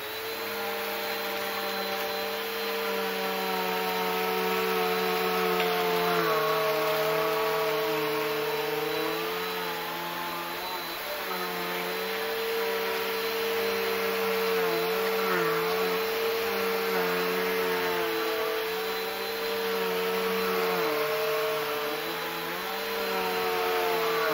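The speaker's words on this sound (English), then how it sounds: "now we're gonna try the vacuum out and we're gonna see how is it" A repaired Bissell PowerForce Helix upright vacuum cleaner runs continuously with a steady motor whine and airflow hiss, pitch wavering slightly as it is pushed, heard up close with no talk.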